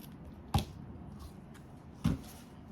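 Small scissors snip a short piece of open weave ribbon trim for a birthday card, two crisp, close cuts about one and a half seconds apart against quiet room tone.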